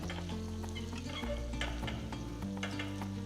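Curry leaves sizzle and crackle in hot oil with scattered pops while being tempered for a South Indian side dish, and a spoon stirs now and then under a steady low hum.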